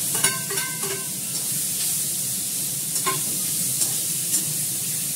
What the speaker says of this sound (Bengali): ওদের পেঁয়াজটা দিয়ে দিলাম, আলুটা দিয়ে দিলাম